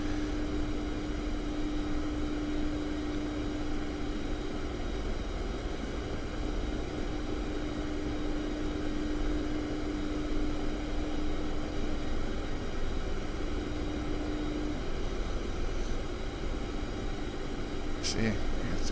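Steady droning aircraft engine hum from a plane taxiing in the DCS flight simulator game, continuous and even throughout with a faint tonal whine, a person talking quietly over it.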